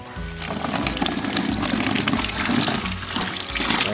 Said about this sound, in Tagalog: So, lagyan mo ng tubig.